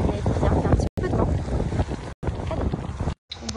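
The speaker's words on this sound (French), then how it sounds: "Et il y a un petit peu de vent." Wind buffets the microphone beside a boat on the water, a steady broadband rush with brief dropouts, loud and close, with no clear voices.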